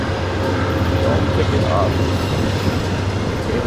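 An Amtrak Cardinal passenger train at Indianapolis, Indiana, in 1997 rumbles loudly and steadily nearby with a faint rhythmic clatter, while people talk over the noise.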